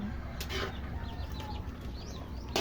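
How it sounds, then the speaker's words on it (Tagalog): Chicken clucking at a distance in an outdoor home setting, a few short clucks over steady background hiss and faint ambient noise, with no one talking. "Manok."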